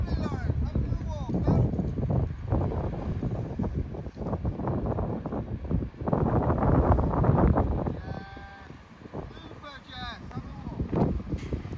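Gusty wind buffets the microphone outdoors at an equestrian event, a rough low rumble that rises and falls beneath a person talking throughout, with faint animal bleats in the background.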